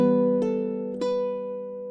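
A baritone ukulele plays a short measure of the Irish tune Morrison's Jig, with a few plucked notes ringing and sustaining. It sounds soft and close, with no voices.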